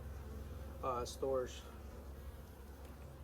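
Honey bees buzz steadily in an opened hive holding brood and pollen, a low insect hum running throughout, with a brief burst of speech over it partway through.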